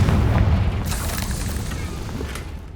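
A Confringo blasting spell detonates in Hogwarts Legacy, a heavy booming explosion up front that rumbles and fades into a longer crackling, debris-like tail.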